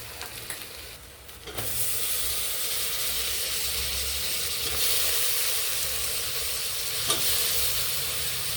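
Cut mixed vegetables for a veg kurma gravy hit a hot pan with a sudden loud sizzle that settles into a steady, close frying hiss, with a brief stir sound near the end.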